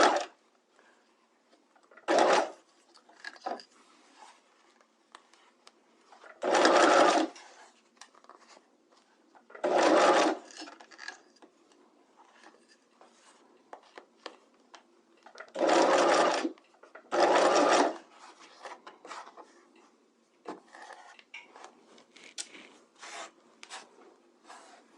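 Sewing machine stitching a gathered seam in several separate bursts of steady whirring, each a second or two long, separated by quiet handling and rustling of fabric, with no talk.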